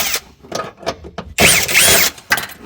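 Power tool spinning out T30 bolts in a VW Passat CC interior: short clicking and ratcheting bursts, then two louder sustained whirring runs close to the mic.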